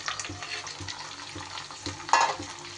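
Cauliflower frying and being stirred into ginger paste masala in a pan, with a steady close sizzle and scraping stir strokes, plus one louder clatter near the end; no talking.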